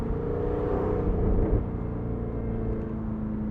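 A 2021 Jaguar F-Type R Convertible engine in dynamic and manual mode, heard from inside the cabin as a deep, steady rumble that swells briefly, then settles into a droning cruise.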